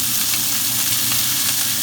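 Onions sizzle hard while being sautéed and caramelized in a pan, a loud, continuous frying crackle with no voices.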